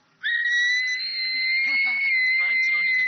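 A marine animal at SeaWorld lets out a loud, sustained high whistle that holds steady for nearly three seconds, close by, with faint voices under it.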